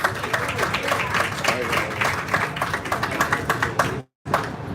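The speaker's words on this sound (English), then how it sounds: "Round of applause" A crowd at a street-naming ceremony in Pico Rivera, California gives a dense, steady round of applause with scattered voices mixed in, breaking off briefly near the end.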